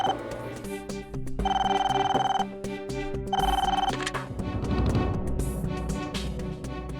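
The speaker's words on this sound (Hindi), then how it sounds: "फोन उठाओ" A telephone bell rings in two long bursts with a pause between, loud and close, over background music.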